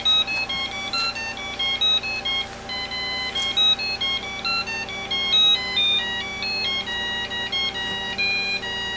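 An IBM Aptiva 245 PC speaker plays a quick sequence of bright electronic beeps in a stepping melody, steady and fairly loud over a faint background hum, with no talk.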